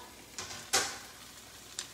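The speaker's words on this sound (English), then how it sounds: "In the frying pan, wow." Vegetables fry in olive oil in a frying pan, giving a few short, quiet sizzling bursts with faint stirring between them.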